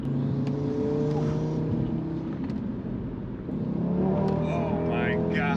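A modified Audi RS3 with over 600 horsepower pulls hard under steady acceleration, its engine droning loudly and continuously from inside the cabin with shifting tone, while voices talk over it.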